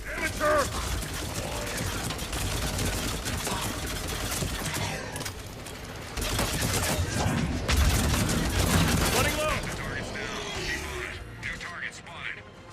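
A submachine gun fires in Mass Effect 3 multiplayer in dense rapid bursts, mixed with clanking mechanical game effects and a busy battle din. Someone talks over much of it.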